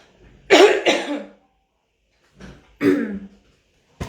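Two pairs of harsh, chesty coughs from a person recovering from a cold, the first pair loud and close, followed after a pause by a slightly quieter pair.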